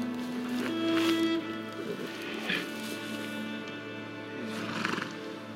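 A horse neighs and whinnies twice, the calls rising out of a low rumbling background, fairly close and moderately loud, with faint movement noises between them.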